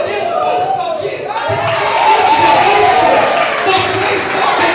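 A church congregation applauding, the clapping and crowd noise swelling after a quieter start into a loud, sustained roar with cheers and scattered voices mixed in.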